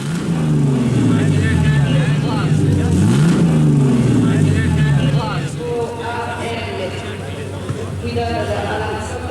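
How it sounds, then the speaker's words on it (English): A vintage Alfa Romeo racing car from the 1930s runs at Monaco, its engine droning loudly and close, dipping and climbing in pitch about a third of the way through before settling into a steady, slightly quieter roar. "This Alfa Romeo was racing here in the 30s and will race again on Sunday."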